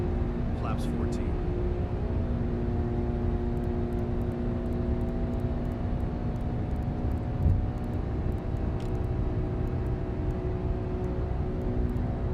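Lockheed L-1011 TriStar trijet going around in Microsoft Flight Simulator 2024, a steady loud engine roar with a sustained tonal whine holding throughout.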